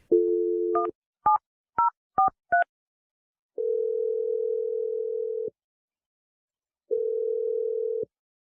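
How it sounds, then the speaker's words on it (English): A telephone dial tone followed by five quick DTMF keypad tones as a number is dialed, then two long, steady ringback tones separated by silence, loud and close with no voices. "I'm going to dial the number right now."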